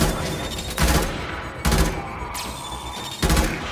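Burston burst-fire rifle in the Warframe video game firing three sharp, loud bursts of rapid shots roughly a second apart, with a constant game background noise between them.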